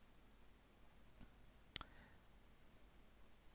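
A computer mouse clicks in 3D modeling software: one faint click, then a sharper, tightly spaced double click. The clicks are quiet and close, with no other sound around them.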